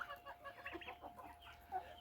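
Several chickens cluck in short, scattered bursts, fairly close, with a steady background hum.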